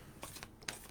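Playing cards are shuffled in short bursts, two quick riffling rustles close by, soft and brief, with no talking over them.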